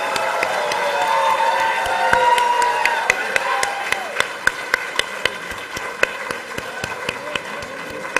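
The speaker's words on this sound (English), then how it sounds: "A loud round of applause for everyone." Audience applauding at a university convocation during a degree distribution ceremony, with sustained crowd clapping and cheering and sharp, regular claps standing out near the microphone.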